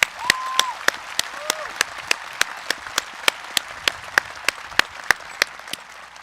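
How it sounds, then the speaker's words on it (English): An audience at a high school commencement ceremony gives a round of applause, a steady crowd clap under which one person's louder, regular claps stand out close by, with a brief whistle or cheer early on. "So let's have a round of applause."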